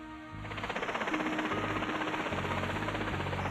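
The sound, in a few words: rescue helicopter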